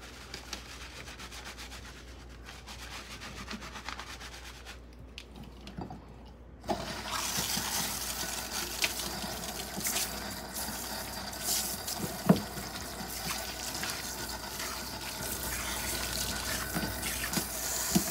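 Water runs steadily at a salon sink during a hair shampoo, a soft hiss at first that turns into a louder, fuller rush of spray and splashing that lasts to the end.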